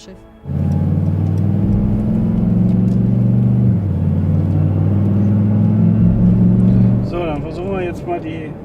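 A Brabus XLP 6x6 truck rumbles on a test track with a deep, steady engine drone close by, holding a constant note with a slight shift midway, then easing off as a voice speaks at the end.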